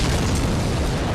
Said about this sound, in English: let's try and ignore that giant fire explosion behind me